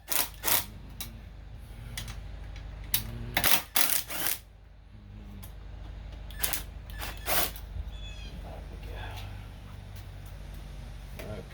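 A hand ratchet fitted with an 8 mm socket backs out the cover screws on a Tecumseh small-engine carburetor, giving several short bursts of close, dry clicking separated by quiet pauses and faint handling noise.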